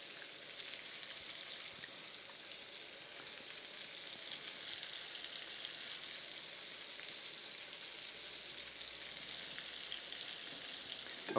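Thick johnny cake batter cooking on a 375-degree griddle, a soft, even sizzle crackling quietly and continuously throughout, with no voices over it.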